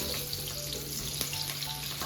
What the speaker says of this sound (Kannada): ಮಶ್ರೂಮ್ ಒಂದು ಐದು ನಿಮಿಷ ಅದು ಸ್ವಲ್ಪ ಎಣ್ಣೆ ಫ್ರೈ ಮಾಡಬೇಕು